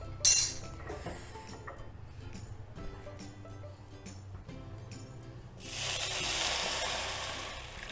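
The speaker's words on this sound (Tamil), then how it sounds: "இதில் இப்போ எடுத்து பால் ஊற்றிக்கலாம்." Milk pours into a pan of golden-brown roasted bread for bread halwa, a sudden broad rushing sizzle that swells and holds near the end after light clinks and quiet frying.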